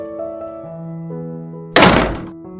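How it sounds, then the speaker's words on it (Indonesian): A bedroom door slammed shut hard, one loud close thunk that stands out sharply against soft sustained background music, followed by a brief decaying rattle. "Pintu kamarnya dibanting keras."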